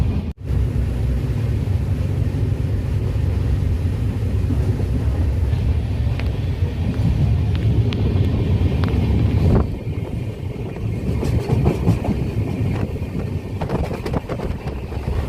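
Train travelling through the Konkan from Ratnagiri toward Panvel: a loud, steady rumble with wind rushing past, shifting briefly in tone partway before continuing, no voices.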